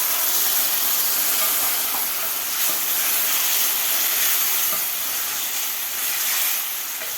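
Water poured into frying masala for a traditional Bhogi festival thali bursts into a loud, continuous hissing sizzle that stays dense and steady from start to finish, with no talking.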